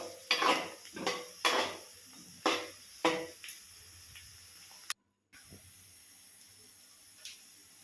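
Egg fried rice stirred in a pan over high flame: about six sharp metallic scrapes and clanks of a spatula against the pan come in a quick rhythm, then a brief silence, followed by a low sizzle and an occasional soft clink.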